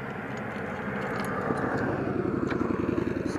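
A motorcycle passes by outdoors, its engine drone building steadily louder over a few seconds with a rough, pulsing rumble and some clatter, with no voices.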